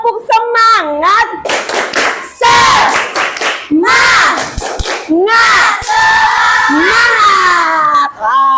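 A group of children in a classroom doing a rhythmic spirit clap, loud patterned clapping bursts mixed with chanted shouting voices, close and energetic.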